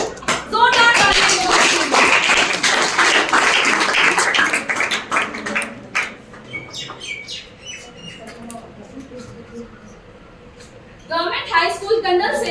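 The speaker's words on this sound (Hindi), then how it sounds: "जोरदार तालियां" Clapping for schoolgirls called to the stage at an inter-district anti-drug poster-making competition, dense at first and thinning out, then a second burst near the end, mixed with talk and chatter.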